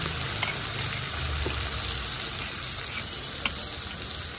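Chopped onion and garlic frying in a pan for chirer polao, a flattened-rice dish, giving a steady close sizzle with a few small pops and no talk.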